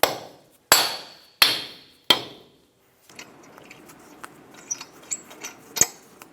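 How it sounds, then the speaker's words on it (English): A soft face hammer taps a cap onto the front wheel hub of a 2000-2006 Toyota Tundra, four sharp ringing blows in steady succession, followed by quieter small clinks and handling noises. "Tap it with a soft face hammer."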